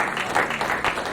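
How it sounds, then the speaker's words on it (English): Church congregation clapping, a loud steady burst of many hands with some voices mixed in. "Please, can you clap for him?"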